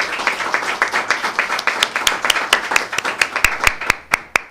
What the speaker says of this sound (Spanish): Un aplauso para nuestros 2 conferencistas